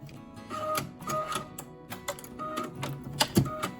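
A sewing machine's automatic needle threader works with a run of small mechanical clicks, ticks and whirring motor bursts, close and moderately quiet, in short repeating pulses with one sharper clunk near the end, no talking.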